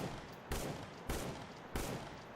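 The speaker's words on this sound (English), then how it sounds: "We're getting shot at." Three sharp gunshots ring out at even intervals during a firefight in the S.T.A.L.K.E.R. GAMMA game, each a distant, fairly faint crack with a short trailing echo.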